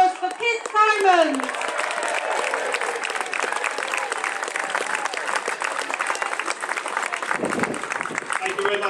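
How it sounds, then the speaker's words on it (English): Audience applause at a Christmas fair in Thames Ditton, a dense, steady wash of many hands clapping close by that keeps going at full strength for the whole stretch, after a brief voice at the start. "Big round of applause for Piers Simon."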